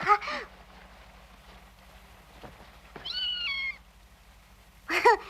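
Cat meowing: a short mew at the start, a longer plaintive meow midway, and another at the end, heard close against a quiet low hum.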